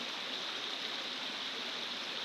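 A thin flow of water spills over a dam wall near Slips Canyon, a steady, even rush with no breaks, heard at moderate distance with no voices.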